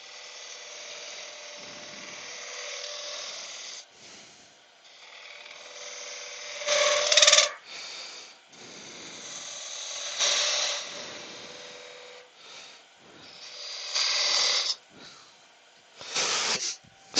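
Spindle gouge cutting wood on a lathe, producing bursts of hissing, scraping shaving noise that swell and fade as the tool is eased in and out, close and moderately loud.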